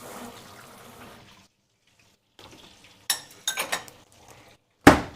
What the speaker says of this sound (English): let me rinse out my tablespoon